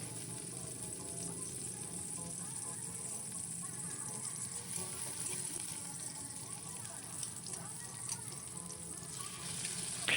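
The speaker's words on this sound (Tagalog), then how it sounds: "haluin lang natin yan" Mixed vegetables hiss and sizzle steadily in a hot pan as they are stirred for a chicken stir-fry, a continuous close frying noise with faint scraping throughout.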